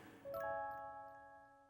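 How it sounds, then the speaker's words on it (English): Anime scene-transition music jingle, the same sting used in Saved by the Bell: a short bright chime of layered sustained tones that rises in and slowly fades, alone without talk. "Why is this anime using the exact same transition music as Saved by the Bell?"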